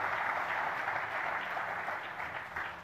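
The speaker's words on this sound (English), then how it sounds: "Please have a big round of applause." An audience applauds award-winning wedding photographers at a ceremony. The clapping is steady and sustained at moderate volume throughout, with no voices over it.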